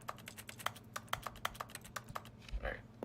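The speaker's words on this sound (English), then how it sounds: "Me clicking on it actually sounds like I'm using the keyboard." Rapid mouse clicks in The Stanley Parable: Ultra Deluxe patter like keyboard typing, a quick irregular run of close, crisp taps that slows near the end.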